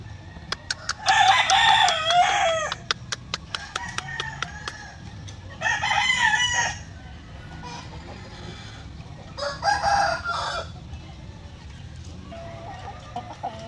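Gamefowl roosters, a white kelso crossed with asil, crow in three loud bursts with quieter clucking and faint background crowing between them.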